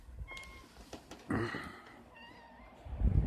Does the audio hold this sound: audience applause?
no